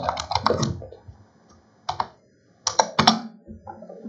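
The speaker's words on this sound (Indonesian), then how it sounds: "Misalkan saya ketik kata" Computer keyboard typing while entering a word in Microsoft Word: clustered bursts of close, crisp key clicks separated by short pauses, with no one talking.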